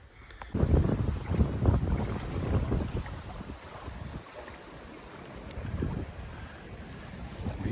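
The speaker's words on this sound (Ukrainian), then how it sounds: "вітер не стихає" Strong gusting wind buffets the microphone beside a camper van in heavy rumbling bursts that ease briefly and then surge again.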